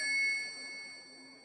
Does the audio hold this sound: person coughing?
no